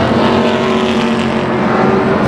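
Pro stock race cars roar around Tucson Speedway during a main event, a loud, dense, sustained engine drone with steady pitch and no voices.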